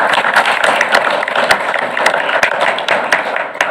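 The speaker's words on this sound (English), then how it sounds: "Want to applaud you guys right now on what you're doing." Loud, close applause from a crowd at a school board meeting, dense clapping sustained throughout with a few sharper individual claps standing out.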